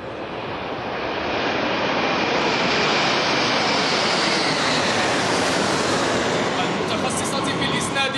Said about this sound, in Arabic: يتم في هذه الأثناء إقحام تشكيل جوي من 7 طائرات قتالية من نوع ياك 130 المتخصصة في الإسناد الناري للقوات